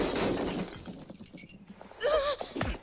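Glass shatters as something is smashed during a martial arts film scene. A sharp crash at the start is followed by scattered tinkling debris and a second breaking burst near the end.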